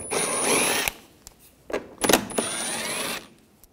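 A ratcheting socket tool, an 8 mm socket, loosens two bolts on a 2013-2019 Ford Escape while rear parking assist sensors are replaced: close bursts of buzzing mechanical ratcheting with short gaps, no voices.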